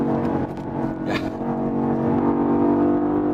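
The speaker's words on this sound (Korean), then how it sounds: "쭉 속도를 끌어올린 뒤에 제동, 턴 조금 더 빠릅니다" BMW XM, a large high-riding SUV with xDrive and M Sport differential, accelerates hard on a test course with a sustained, loud engine drone, then a brief squeal as it brakes into a turn.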